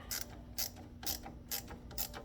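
A ratchet tightens an 8 mm bolt on a GT Mustang, giving five evenly spaced bursts of close, crisp clicking, each a quick ratcheting stroke, with a faint hum underneath.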